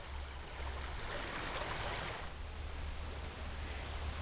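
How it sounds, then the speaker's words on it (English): Tuscarora River creek water rushing over rapids, a steady broadband roar with low rumble underneath, continuous and fairly close with no voices. "there's a little section of still water before more rapids again"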